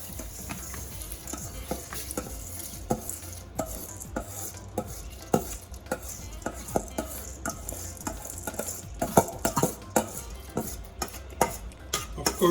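Washed rice stirred into a pot with onion, garlic and fine leaf thyme for split peas cook-up rice, with repeated scraping spoon strokes and soft clinks over a low sizzle, close and continuous.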